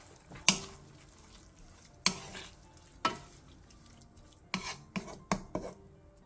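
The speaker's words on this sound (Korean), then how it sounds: "통깨를 넣고 가볍게 뒤적여 마무리해주세요" Braised shishito peppers with dried shrimp, sesame seeds and sesame oil being lightly stirred in a pan, with several sharp utensil scrapes and clinks against the pan, irregular and close, over a faint sizzle.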